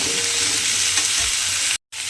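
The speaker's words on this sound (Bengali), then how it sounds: "এই আলুটা আর কোয়াশটা তেলের মধ্যে দিয়ে একটু ভালোভাবে ভেজে নেব" Potato and squash pieces fry in oil over a low gas flame, with a steady close sizzle and a brief silent gap near the end.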